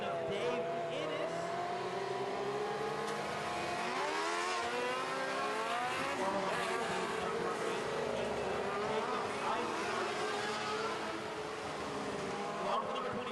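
Race cars in the Modified Light division roll onto a dirt speedway for the Borawiec Memorial, engines rumbling and revving at moderate distance under a public-address announcer's voice.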